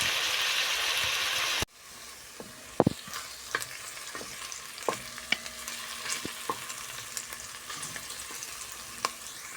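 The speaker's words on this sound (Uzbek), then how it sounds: "Ozgina qovurilib olgandan keyin go'shtni solib qovuramiz." Meat sizzles in a pan with diced carrots and potatoes, a steady frying hiss broken by sharp clacks and scrapes of a utensil stirring, after a louder burst of sizzle at the start.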